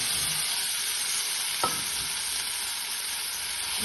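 Chopped dill leaves sautéed with browned onion in a pan give a steady, close broadband sizzle, with a single sharp clack of a utensil against the pan about midway and no voices.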